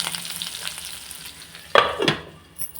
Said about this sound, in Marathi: बटाटे फ्राय होत आहे